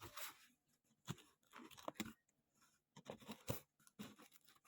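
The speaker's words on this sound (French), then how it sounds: "Et je découpe le scotch" Scissors snip and tear through packing tape on a parcel, a run of close, crisp cutting and crinkling sounds in uneven bursts.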